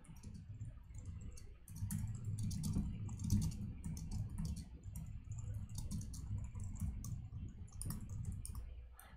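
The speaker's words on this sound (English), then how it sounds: "let's just type it out" Rapid typing of code on a computer keyboard, clusters of light clicks and key taps in quick bursts with short pauses, faint and close against a low background hum.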